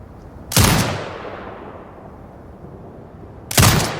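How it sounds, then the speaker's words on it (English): An automated turret in Sniper Ghost Warrior Contracts 2 fires two loud, heavy shots about three seconds apart, each followed by a long fading echo. "Exit binocular mode and command the turret to fire."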